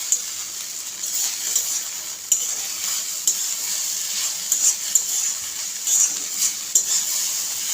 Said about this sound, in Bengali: পাস্তা মশলাটাকেও আরও কিছুক্ষণ ম্যাগি আর আলুর সাথে ভেজে নেব